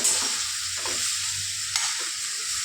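Bitter gourd, stuffed karela, frying in shallow oil with a steady hiss, stirred by a utensil that scrapes the pan now and then, with one sharp clink near the middle; close and moderate in level, no voices.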